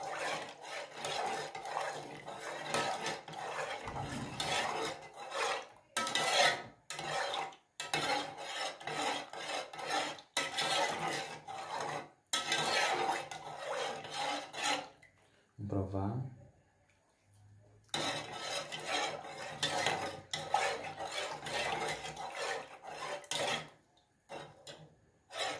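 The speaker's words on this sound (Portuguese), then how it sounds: "Agora é só mexer até que ele engrosse." A spoon scrapes and rasps around a pan of basic hot chocolate as it thickens, close rhythmic rubbing strokes broken by short pauses, with a voice talking in places.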